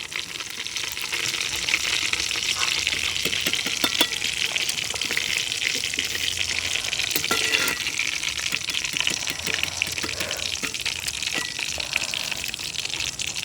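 Food deep-frying in oil for a village-style dish, a loud, continuous dense bubbling sizzle that runs steadily throughout, close and unbroken, with no voices.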